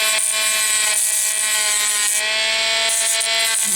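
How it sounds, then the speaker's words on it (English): A Dremel rotary tool shaving down sharp corners, giving a loud, high-pitched motor whine that dips and resumes several times as it cuts, alone without talk. "pull out your Dremel, if you've got one, and just go ahead and start shaving these sharp corners down"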